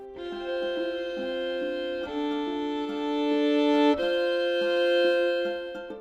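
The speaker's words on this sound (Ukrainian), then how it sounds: "Ось послухайте, як звучить скрипка." A violin plays a slow, sustained melody of bowed notes, clear and close, with no voices.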